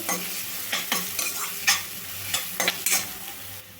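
Finely chopped pieces frying in a pan while being stirred for a chaat masala dish, with a steady sizzle broken by repeated scraping strokes of a spoon, close and moderately loud, without speech.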